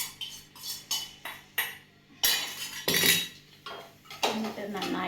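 A spoon stirs curry in a pot, producing close metallic clinks and taps against the pot in an uneven rhythm, with a few longer scraping strokes.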